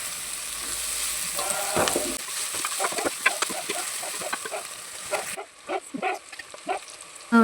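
Ingredients stirred together in a hot pan, a steady sizzle broken by repeated scraping and clattering strokes of a spoon against the metal, close and fairly loud with no talking.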